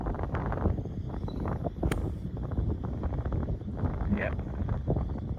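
Wind buffeting a microphone outdoors on a short golf course, a constant low rumbling roar with gusty swells, close and dominant throughout.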